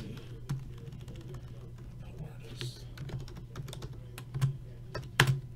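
Typing on a computer keyboard, a quick irregular run of light clicks and taps close by over a steady low electrical hum, with a few louder key strikes near the end.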